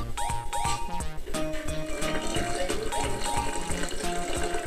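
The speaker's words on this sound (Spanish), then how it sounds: "Debemos echarle mucha agua." Water gushes into a cooking pot holding pineapple peels and cloves, a loud, continuous splashing and filling sound with a churning, bubbly texture throughout.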